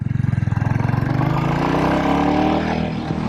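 A Royal Enfield Bullet 350 motorcycle leaning through a tight turn gives a close, rhythmic single-cylinder thump that smooths into a steady engine drone as it pulls through.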